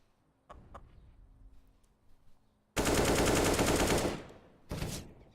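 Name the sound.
gunfire in Counter-Strike video game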